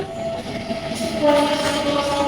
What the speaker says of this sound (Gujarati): ટ્રેન આવી જો